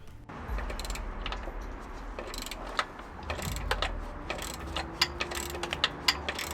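Hand ratchet clicking while removing bolts from the down pipe of a Vauxhall Astra saved from the scrapyard, bursts of close mechanical ticks over a low background hum.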